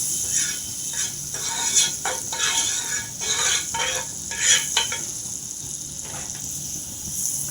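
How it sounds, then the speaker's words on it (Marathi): Butter sizzles in a hot pan on the stove, a steady close crackle broken by irregular scraping and clinking bursts, with no voices. "मी तिथे पॅन तापत ठेवलं बघा, त्याला आपण बटर लावून घेऊया"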